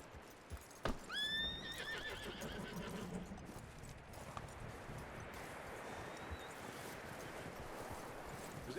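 A horse in the video game Red Dead Redemption 2 whinnies loudly near the start, followed by steady clip-clopping hooves and soft outdoor ambience.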